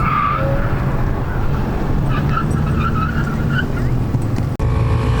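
A car running an autocross course in San Antonio, engine droning loudly and steadily with tire skidding and squeal throughout, close and continuous, no talking.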